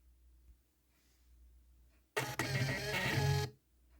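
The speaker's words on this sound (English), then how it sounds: "We're printing one copy, and I'm going to go ahead and hit print right now." A label printer prints a single label: after a faint quiet stretch, a close, buzzing mechanical whirr with a few clicks runs for about a second and a half, then stops.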